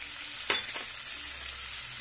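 Vegetables with carrots, onion and peas frying in oil for upma, a soft continuous close sizzle with one sharp stirring scrape and a lighter follow-up scrape.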